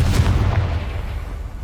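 Confringo explosive spell cast in Hogwarts Legacy, a loud low boom with a sharp burst at the start, rolling into a sustained rumbling roar that holds steady to the end, with no voices.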